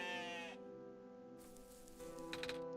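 A sheep in the video game OneShot bleats in a couple of wavering, harmonic cries, the first long and loud, a shorter one following after a quiet gap, with soft clicking in between.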